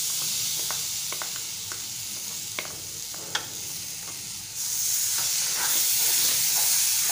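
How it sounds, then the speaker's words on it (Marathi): Mango pulp goes into a hot pan of sugar and hisses and sizzles while being stirred, with scattered crackles and a louder, denser sizzle toward the end; no talking. "आता आपण जो आपण आंब्याचा गर काढून घेतलाय तो टाकूया।"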